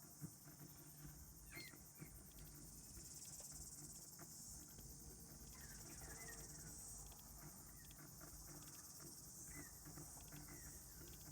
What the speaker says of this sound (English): I just hear all of this noise very close to the pull-up bar, and what do you know, it's a cicada